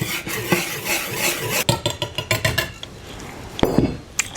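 A whisk stirs dry ingredients for cheddar dill beer bread in a bowl, giving quick irregular scraping and clinking strokes up close, with a sharper knock near the end.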